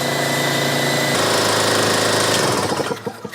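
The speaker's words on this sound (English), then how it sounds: "So apparently I have my compressor dialed up as far as the air regulator will allow me to, because that's a lot of air in there." A portable air compressor runs loudly and steadily with a droning mechanical pulse up close, then winds down and sputters to a stop near the end.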